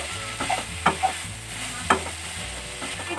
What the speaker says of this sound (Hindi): देखिए फ्रेंड, वेजिटेबल हमारा अच्छे से फ्राई हो गए हैं।